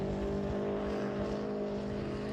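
A Subaru WRX STI with all-wheel drive and a manual gearbox drives in winter, its engine giving a steady, loud, droning hum with no passing or tire squeal.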